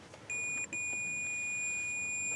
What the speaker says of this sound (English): when my buddy closes this door, it should stop beeping